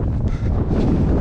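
Wind buffets a microphone during an outdoor run on a cold, windy day, a steady, loud low rumble with gusty swells and no talking.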